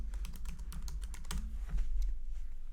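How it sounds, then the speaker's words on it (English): Someone types on a computer keyboard while entering a database query: a close, rapid, uneven run of light key clicks that continues steadily throughout, with no voices. "So I'm going to type P for products product name."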